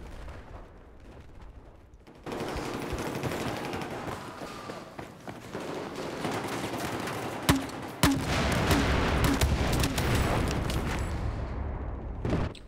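Dense gunfire in a Battlefield 4 multiplayer match on the Zavod map, with sustained bursts and rattling fusillades filling most of the stretch and a couple of sharper, louder shots standing out near the middle.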